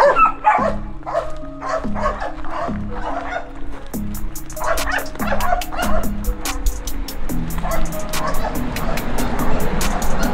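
Puppy barking in short yips and whimpering repeatedly, close and fairly loud, with a person talking over the yelps throughout.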